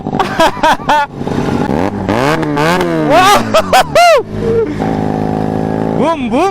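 A motorcycle engine revs up and down repeatedly, close and loud, with rising and falling pitch sweeps and brief idling between throttle blips.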